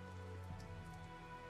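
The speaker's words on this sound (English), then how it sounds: "Must be all of this rain we're having" Rain falls steadily in a town in the video game Tales of Zestiria, a soft, even patter running beneath a low background hum, faint and continuous with no voices.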